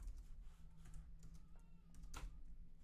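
Computer keyboard typing during a university computer science lecture: a run of light, irregular key clicks over a steady room hum, with no talking.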